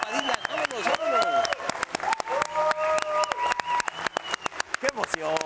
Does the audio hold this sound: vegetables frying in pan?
no